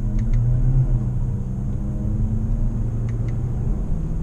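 A Jeep Compass Limited 2.0 with its original, unmodified exhaust gives a deep, steady low rumble at idle, close and continuous with no talk over it.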